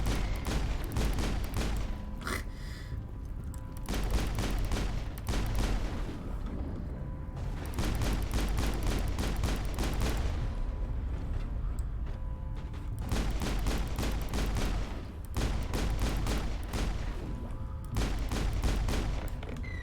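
Pistol gunfire in the Mass Effect video game cracks in rapid bursts of repeated sharp shots, clustered volleys separated by brief pauses, loud and close against a battle din.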